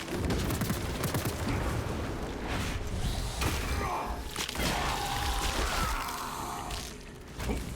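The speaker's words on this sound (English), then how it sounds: "Deployed crack grenade." A crack grenade goes off in the Space Marine video game amid dense, loud combat noise, with bursts of gunfire and a rumbling blast layered over continuous battle din.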